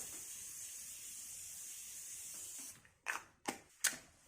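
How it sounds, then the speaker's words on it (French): Makeup setting spray is misted onto a finished Halloween Poison Ivy face in three short, close, hissing bursts after a quiet stretch. "Je termine avec du spray fixateur."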